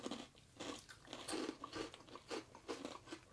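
Close, quiet crunching and chewing of a dried, salted or soy-flavored snack shaped like a french fry, with steady repeated bites and no speech.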